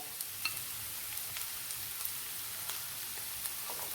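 Onions with chopped ginger sautéing in a pan for chicken curry, a faint steady sizzle with occasional light stirring taps.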